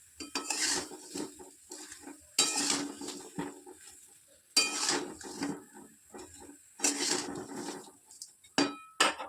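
A spoon scrapes and stirs oil-free mango pickle in a metal pan just before jaggery goes in, giving bursts of clinking, scraping strokes in an uneven rhythm with short pauses, close and fairly loud.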